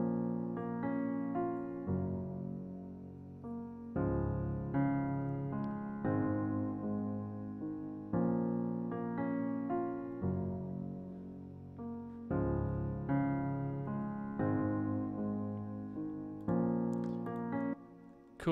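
A processed MIDI piano in Logic, shaped to sound like a real instrument, plays a steady flowing chord progression with repeated notes, sustained and full, heard alone without talking.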